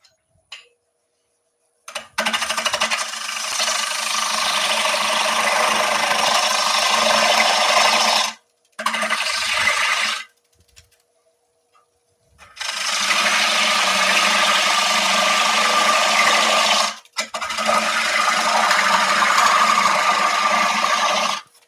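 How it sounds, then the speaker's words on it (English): A lathe gouge cuts into a spinning wooden bowl in long, loud scraping runs, separated by short pauses of silence. "I've just turned the gouge in to hog out some of that timber."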